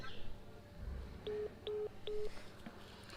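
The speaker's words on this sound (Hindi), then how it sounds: "भाई फ़ोन काट दिया गया है" A telephone line drops and repeats three short, even electronic beeps in a steady pulse, faint and thin over a soft background hiss with no talking.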